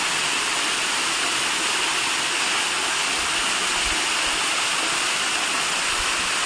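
Manjalpade waterfall pours steadily, a constant broadband roar of rushing water heard up close and unbroken throughout, with no voices.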